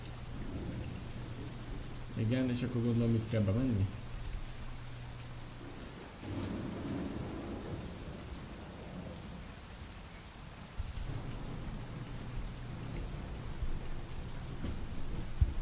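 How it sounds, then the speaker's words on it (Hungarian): Steady rain and rolling thunder from the video game Splinter Cell hiss continuously in the background, while someone speaks briefly over it and a low game hum drones beneath. "Ez minden napon esik az eső, gyerekek."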